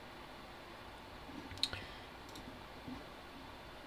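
A single computer mouse click on Apply in OBS Studio settings makes a sharp, faint tick, followed by a smaller click a moment later against a quiet room background.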